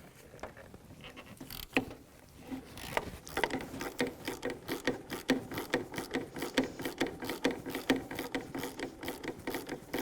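Ratchet on an 18mm socket loosening the engine torque strut bolt of a 2009-2014 Nissan Maxima, rapid repeated clicking of the pawl in a steady rhythm, close and fairly loud, with no talking.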